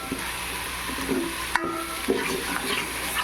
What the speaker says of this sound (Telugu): అల్లం తెల్లగడ్డ ఇది కూడా కాసేపు వేగనిద్దాం ఒకసారి ఫ్రై చేయండి